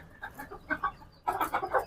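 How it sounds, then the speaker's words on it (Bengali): Native desi roosters and hens clucking in short bursts at a poultry farm, a few soft calls followed by a louder cluster of clucks close by, no talking. "সবগুলোই রাসেল ভাইয়ের মোরগ মুরগি সবগুলোই খুব সুন্দর"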